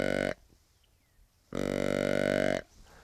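A deer call imitates a younger buck's tending grunt. There are two short, deep, guttural grunts: the first is clipped and brief, and after a pause a second one lasts about a second.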